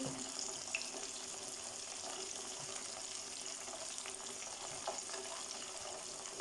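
Chicken pieces fry in hot oil for KFC-style broast, a quiet continuous hiss and bubbling crackle that stays steady throughout with no talking.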